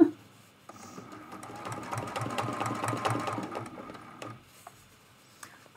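A sewing machine stitches an art quilt in one steady burst of rapid mechanical stitching for about three seconds, starting and stopping cleanly with quiet pauses on either side.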